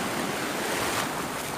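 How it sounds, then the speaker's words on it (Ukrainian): Steady roar of sea surf at Sunny Beach, waves breaking and washing continuously at close range, with a little wind noise on the microphone. "О, хвиля піднімається"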